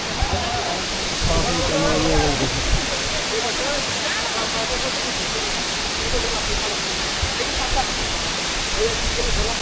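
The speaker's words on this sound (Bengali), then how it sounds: "অবশেষে আমরা আমাদের সেই কাঙ্ক্ষিত ঝর্ণায় এসে পৌঁছেছি" Water crashes down a waterfall in the Rangamati hills, a constant near roar that fills the scene while someone talks over it for much of the time.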